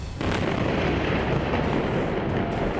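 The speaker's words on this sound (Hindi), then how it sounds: "एक जोरदार धमाका, आग की लपटें और काले धुएं का गुबार" A loud, sustained rumbling blast roars throughout, a heavy explosion in Gaza City with a dense, noisy boom that doesn't let up.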